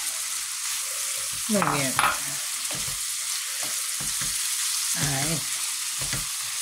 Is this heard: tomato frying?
yes